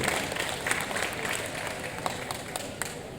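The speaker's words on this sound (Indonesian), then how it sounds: "Tepuk tangan untuk Jawa Timur" Audience applause at the closing ceremony of an LP Ma'arif PBNU national working meeting at UNISMA Malang, a steady dense wash of clapping from a large hall crowd, with a few sharper claps standing out.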